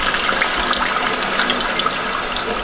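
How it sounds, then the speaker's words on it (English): Water rushing into a toilet tank as it refills after a mechanism replacement, a steady close gushing hiss without pause. "you can let the water flow back in."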